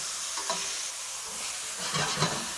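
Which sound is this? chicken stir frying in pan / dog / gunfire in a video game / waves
chicken stir frying in pan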